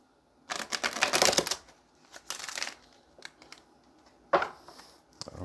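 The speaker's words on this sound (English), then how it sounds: "Let's get one more shuffle" Tarot cards are shuffled by hand in several bursts of riffling and flicking, crisp and close, separated by short pauses.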